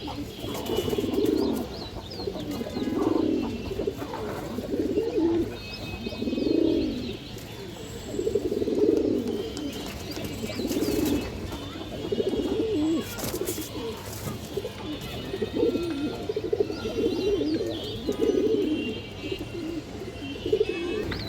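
Repeated soft cooing from khaki pigeons kept as home birds, including a silver khaki male, in steady rhythmic pulses close by, with faint chirps and background noise.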